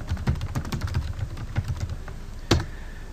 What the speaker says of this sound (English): come up to the search bar and type in Daily Toreador